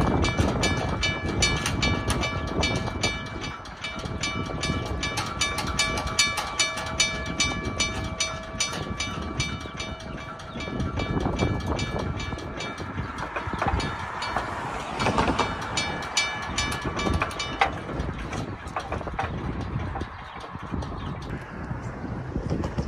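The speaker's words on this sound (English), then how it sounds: "time to ring the bell." A bright, high-pitched railroad crossing bell at 12th Street in Santa Paula, California rings steadily and continuously, with loud rumbling rail noise underneath.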